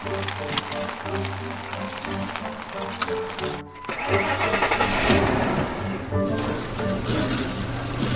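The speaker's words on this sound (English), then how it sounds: "There's probably something wrong with the engine." Car engine cranking and turning over roughly, sounding faulty, with a dense mechanical rumble that briefly drops out before restarting and running loud and uneven.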